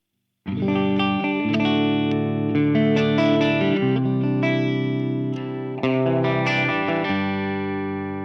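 A sustained clean electric guitar tone from a TC Electronic Ampworx JIMS 800 preamp rings out with layered chords and a slight shimmer, played alone with no voices and fairly loud throughout.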